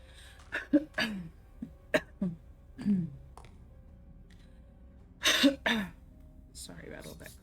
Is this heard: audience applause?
no